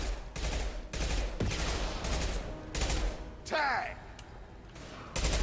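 Mass Effect 2 combat with an impact gun firing: a series of loud, broadband gunfire bursts and thumps in steady succession, with a short voice shout partway through.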